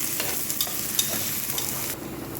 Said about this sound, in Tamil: வெங்காயமும் கருவேப்பில் போட்டு நல்லா வணக்கிட்டு பச்சை மிளகா எல்லாம் போட்டு நல்லா வணக்கிடலாம்